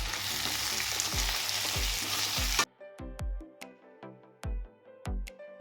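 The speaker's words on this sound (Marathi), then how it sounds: "त्याच्यामध्ये आता आपण किसलेलं खोबरं टाकायचं आणि ते छान परतवून घ्यायचं" Grated coconut sautéed with fried onion in a pan, a dense sizzle at first, then quieter with repeated clinks and thumps of a spatula stirring against the pan.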